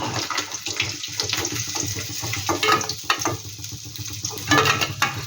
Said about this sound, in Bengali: লাল লাল করে বেশ ভেজে নিচ্ছি বাকিগুলো আমি একইভাবে ভেজে নেবো